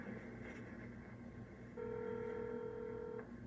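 A telephone being dialed: a steady electronic tone sounds at moderate level for about a second and a half over a low background hum, with no talking.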